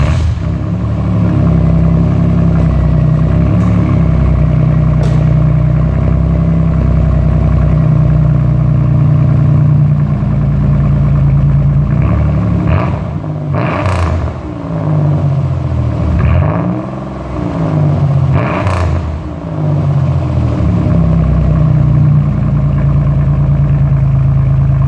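A 1992 Chevrolet Cavalier Z24 idles loudly through an old Magnaflow muffler, a deep steady rumble broken midway by several sharp revs that rise and fall before settling back to idle.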